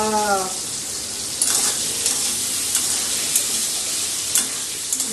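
Loud, steady sizzle of food frying in hot oil, with scattered scraping clicks of stirring through the hiss and a brief tonal sound at the very start.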